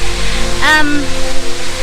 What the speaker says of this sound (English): you can hear already water falling down